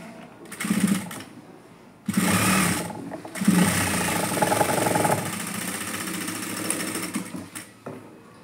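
A sewing machine stitches hooks onto a blouse in a few close, loud runs of buzzing, rattling motor noise, with short gaps and a gradual tapering at the end.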